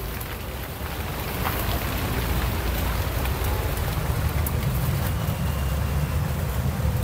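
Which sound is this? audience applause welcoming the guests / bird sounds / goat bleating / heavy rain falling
heavy rain falling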